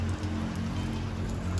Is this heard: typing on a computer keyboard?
no